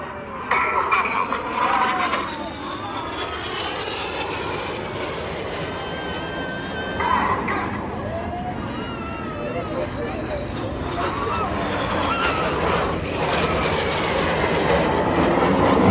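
Red Arrows jet aircraft in an aerobatic display roar continuously overhead, a broad rushing engine noise swelling and fading over about sixteen seconds while a commentator talks throughout.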